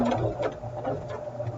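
Sewing machine stitching a quilt, steady mechanical whirring and patter close by for under two seconds, with no one talking.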